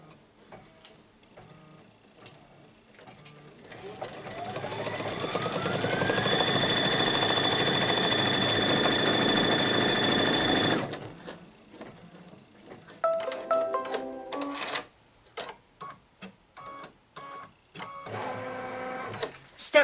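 An embroidery machine stitches a Kimberbell wall hanging. It gives a rising whir that settles into a loud, steady mechanical drone for several seconds, then breaks into rapid, uneven tapping bursts. Faint speech is present.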